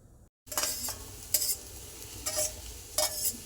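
Chopped okra fries in a little oil as a spoon stirs it, producing a continuous hiss with rhythmic bursts of scraping every second or so after a brief silent gap at the start.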